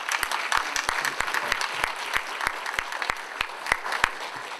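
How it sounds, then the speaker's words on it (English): Applause from an audience at a university panel discussion for an art exhibition: a steady bed of clapping with one nearby pair of hands cracking out loud, evenly spaced claps throughout. "let's give a nice round of applause"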